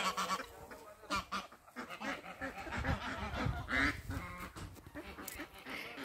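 Geese and ducks honk and quack repeatedly among a flock outdoors in Istanbul, the calls close and overlapping in irregular bursts against a busy open-air background.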